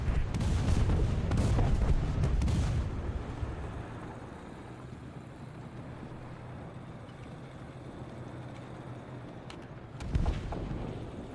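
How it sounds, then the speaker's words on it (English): Artillery in War Thunder booms in a heavy, rumbling cluster of blasts at the start, fading into a low continuous rumble before another deep explosion near the end. "I'm pretty sure that's my own artillery."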